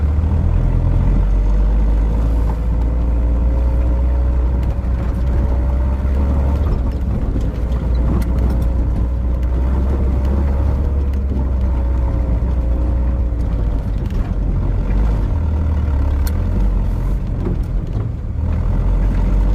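A Honda Civic drives with its engine running, a steady loud drone with a low rumble and a wavering hum in the cabin. It keeps going without a break for the whole stretch.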